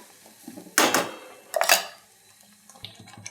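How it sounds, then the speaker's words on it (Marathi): Thick drumsticks being stirred and sautéed in black masala in a pan, two loud clattering scrapes of a spoon against metal and a few softer knocks, with quiet gaps between. "शेंगा छान मसाल्यात परतून घ्यायच्यात आपल्याला"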